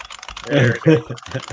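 Rapid clacky keystrokes on a loud IBM buckling spring keyboard, a close burst of typing with sharp, springy clicks.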